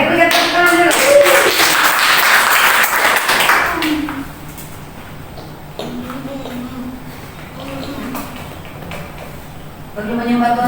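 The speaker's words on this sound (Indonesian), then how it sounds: "Oke, berikan tepuk tangan dulu." A congregation claps hands at a praise and worship service, a dense burst of clapping in the opening seconds mixed with voices, then quieter voices and scattered sound follow.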